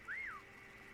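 A single short whistle from a person, rising and then gliding down, sounds once near the start before fading into a quiet background hum.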